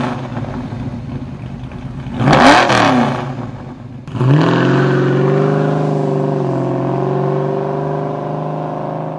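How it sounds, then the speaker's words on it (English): A car's exhaust runs through a Flowmaster performance muffler, giving a steady, loud rumble that swells into a sharp rev, dips, then settles back into a deep, even drone at fairly close range. "this is a muffler that will give you open header performance, but still maintain a reasonable sound"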